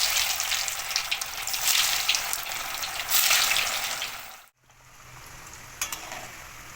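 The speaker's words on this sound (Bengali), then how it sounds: "চপগুলো ভেজে নিচ্ছি সব, এইভাবে লাল লাল করে ভেজে নেবো চপগুলো" Vegetable chops deep-frying in hot oil, a loud continuous bubbling sizzle that briefly cuts out and then resumes more quietly, close up with no voices.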